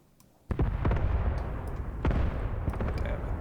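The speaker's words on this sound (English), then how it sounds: "This enemy artillery, I'm very glad that it missed my concentration of forces." Video game artillery fire from enemy guns, a burst of heavy booming shots and explosions starting abruptly, several sharp impacts over a rumbling, crackling backdrop, loud and fairly close.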